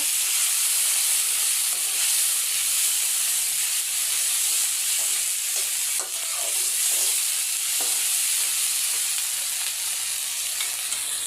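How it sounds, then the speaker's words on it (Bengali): Spice masala sautéing in a pan, a steady loud hiss and sizzle close up with occasional light scraping taps as it is stirred. "এইভাবে মশলা কষাবো"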